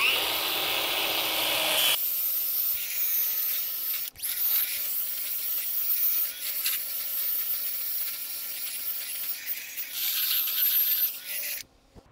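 A cheaper 1/2 by 18 inch bandfile with an 80 grit belt grinds against metal in a steady, rough, high-pitched whir that runs for about ten seconds with slight surges, close and alone, then cuts off.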